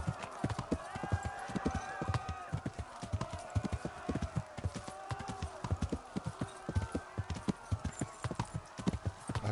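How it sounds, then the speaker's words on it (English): Horse hooves gallop in a steady, fast clip-clop rhythm in the medieval game Kingdom Come: Deliverance, running continuously and close at moderate volume, with a faint voice underneath. "I've got a horse."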